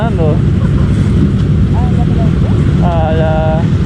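Motorcycle engines drone loudly during a large group ride in Peru with Kawasaki bikes, a dense wind-buffeted roar with brief rising revs passing by.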